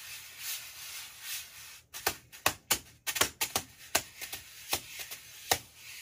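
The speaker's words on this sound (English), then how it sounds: "now you can practice your brushes" Wire drum brushes on a Russ Miller Prologix practice pad with a hard plastic surface. A soft swishing opens, then a run of crisp, dry taps follows in an uneven rhythm, close and fairly quiet.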